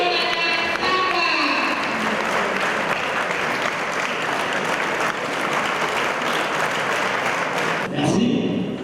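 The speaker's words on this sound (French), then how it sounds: "Merci d'acclamer le président Guy Onana Samba." An audience at a GCI Cameroon ceremony applauds its president with loud, sustained clapping that fills the whole stretch and swells briefly near the end.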